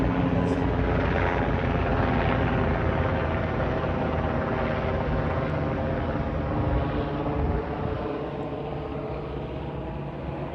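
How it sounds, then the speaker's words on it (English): A helicopter passes overhead, its steady rotor thrum filling the air loudly and continuously before easing slightly as it moves on. "Got a helicopter coming over"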